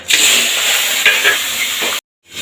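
Tengra fish dropped together into well-heated oil, a loud, close, continuous crackling sizzle for about two seconds that cuts off abruptly, then a faint return of sizzling.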